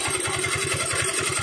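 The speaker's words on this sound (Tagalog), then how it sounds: "Ang lakas ng tunog sa loob ng makina." A Yamaha Mio i 125 scooter engine, being stripped for an overhaul, runs at a steady idle. It knocks with a loud, fast, even rhythm close by, and no one speaks.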